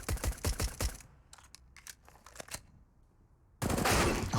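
Desert Eagle .50 caliber pistol shots in a CS:GO match on Overpass, a rapid string of sharp, loud cracks up front, then lighter scattered clicks and a sudden dense burst of noise at the end.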